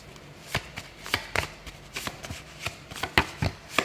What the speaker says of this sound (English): Sorry, the cards always hit the mic.